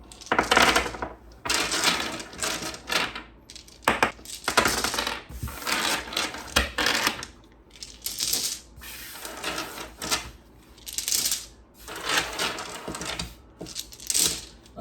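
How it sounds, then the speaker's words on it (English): Handfuls of dice pour and rattle into a cloth dice bag, a dense, close clatter in several bursts with brief pauses between, loud throughout and with no talking. "I love the sound of a dice bag."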